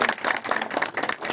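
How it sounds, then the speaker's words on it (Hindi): Applause for the first-prize winner at a pigeon-flying cup: a short, dense patter of crowd clapping, close and steady for its whole length. "फर्स्ट इनाम है माशाल्लाह। तालियां एक दफा दोबारा।"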